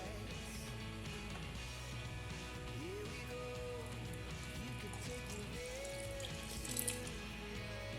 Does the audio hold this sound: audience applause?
no